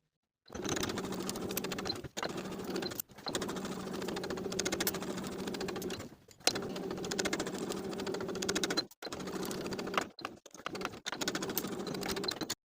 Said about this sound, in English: We're going to sew the outer curved edge of the collar stand with the collar sandwiched in between with a 5/8 inch seam allowance